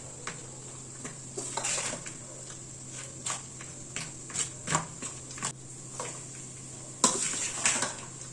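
A spoon scrapes and taps against a pan while sambar powder and jaggery are stirred into avalakki uppittu, producing a run of close, irregular metallic clinks and scrapes with a sharper burst near the end.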